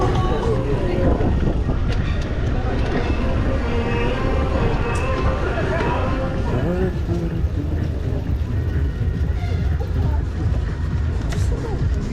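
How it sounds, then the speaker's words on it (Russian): An electric commuter train on a summer trip in Crimea rumbles past close by in a loud, continuous roar with rattling carriages, while people chatter in the background. "Электричка, электричка, электричка."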